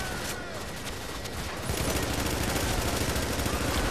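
Automated turret fire in The Division video game, a dense continuous rattle of rapid gunfire that grows louder and heavier partway through, with no speech.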